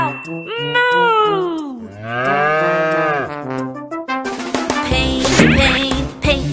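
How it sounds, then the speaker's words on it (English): A cow moos in a children's nursery song, with a loud, long, drawn-out moo rising and falling over a couple of seconds. Bright, busy song music follows right after. "I'm a cow. Moo."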